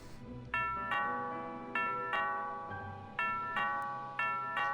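Doorbell in the video game Thimbleweed Park rings repeatedly with bright two-tone chimes, roughly four or five in a row, each decaying before the next, over a low background hum.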